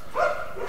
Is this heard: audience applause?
no